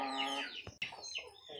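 Young pea-comb chicken clucking close by in a few short, squawky calls with brief pauses between them, with no talking.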